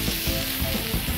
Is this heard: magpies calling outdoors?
no